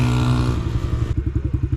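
A motorcycle engine roars nearby with a steady, rumbling tone, then breaks into a pulsing, clattering throb of rapid throttle blips, loud and close, with no talking over it.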